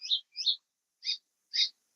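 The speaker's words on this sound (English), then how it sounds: "Oh, this bird is singing." Outdoors a bird sings four bright chirps, two quick ones close together, then a pause and two more spaced apart, clear and fairly close against silence.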